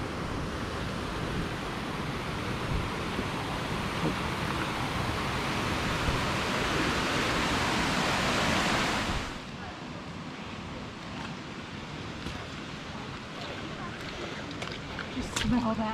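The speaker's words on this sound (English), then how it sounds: "this is the stream flowing from Emerald to Dream Lake and a little waterfall here in between" A mountain stream with a small waterfall between Dream Lake and Emerald Lake in Rocky Mountain National Park pours steadily and loudly at first, then drops to a softer, more distant trickling flow with faint irregular splashes.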